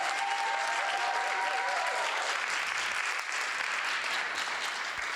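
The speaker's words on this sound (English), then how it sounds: "Ladies, can we get one last hand clap for our panel?" Sustained applause from an audience of women in a room honouring a panel, dense steady clapping throughout without a break.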